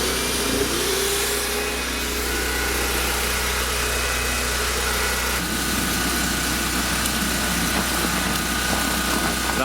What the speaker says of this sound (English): All right, the generator's cranked up.